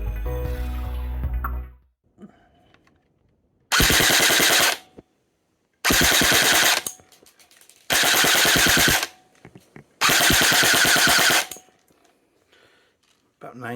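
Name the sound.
E&C Strike Patriot PDW airsoft gun firing full auto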